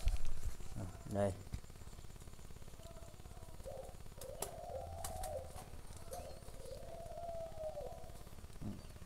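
Pigeons or doves cooing at a bird breeder's loft, several soft low coos rising and falling through the middle and later part, close by, with a voice speaking over a steady background.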